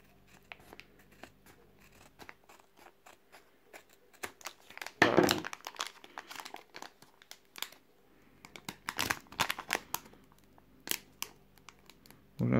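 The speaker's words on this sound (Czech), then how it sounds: "Takže si to tady opatrně střihnu." Scissors snipping open crinkly plastic packaging of a small USB adapter, with quiet rustling and crinkling, a few sharper louder cuts and handling noise, close by with no speech.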